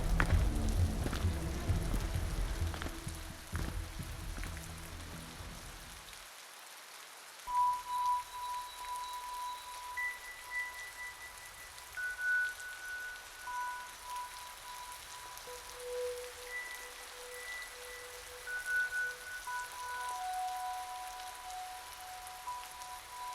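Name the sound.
heavy rain pouring, audiobook sound effect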